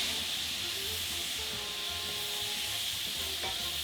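Tofu sizzling in a very hot pan right after tamari is added, a continuous bright hiss of steam and frying held at steady loudness with faint scraping underneath.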